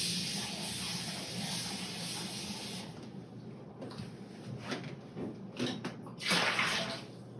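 Hot water pours into a plastic wine kit fermenter while making a Gewurztraminer from a Kenridge Classic kit, a steady hissing gush, then quieter splashing and trickling toward the end.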